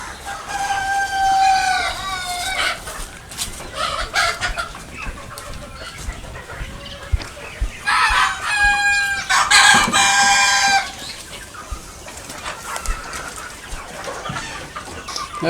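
Many chickens cluck and squawk together inside a poultry shed, with a rooster crowing partway through, loud and close.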